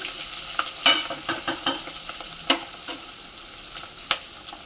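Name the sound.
frying ingredients in a pan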